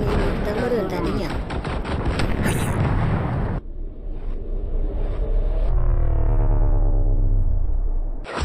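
Rapid animated gunfire crackles in a stickman battle, dense bursts for the first few seconds, then a rumbling, quieter stretch, with excited voices talking over it.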